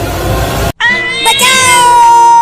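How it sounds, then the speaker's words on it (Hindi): Angry cartoon cats meowing loudly: a rough burst, a brief gap, then a long, drawn-out, rising and falling meow that holds close and clear. "अब देखो ये दोनों बिल्लियाँ कितनी गुस्से में हैं।"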